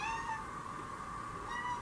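A house cat meows twice close by, one drawn-out cry at the start and another near the end, with a faint steady hum between and no talking.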